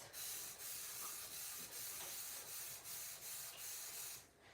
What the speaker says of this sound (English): spray it down and clean it later.